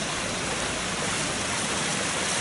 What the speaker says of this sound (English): Here's Sharp's Creek itself, coming onto the property.